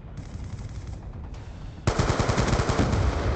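Rapid automatic gunfire in Call of Duty Black Ops II, a steady burst that pauses briefly, then resumes louder and denser for the final seconds.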